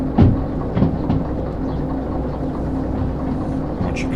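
Rumbling train from the Derail Valley video game, a steady low rail drone with a few soft clunks near the start, continuous and fairly close.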